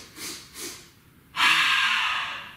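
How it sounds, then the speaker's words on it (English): Yoga bunny breathing in a kids' yoga class: two quick sniffs in through the nose, a short pause, then a long, steady breath out from the mouth, close and clear. "we're going to take 3 quick sniffs in through our nose and a big breath out"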